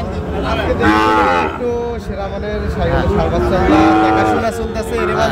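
A Sahiwal bull moos loudly several times close by at a cattle market in Sylhet, long drawn-out lows mixed with people speaking in the background.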